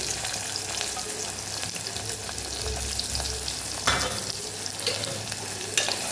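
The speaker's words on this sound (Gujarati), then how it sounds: "ડુંગળીને સરસ આપણે સાતળી લેવાની છે" Onions fry in hot oil with cumin and asafoetida, a constant close sizzle with scraping stirs of a spoon against the pan and a few louder clinks.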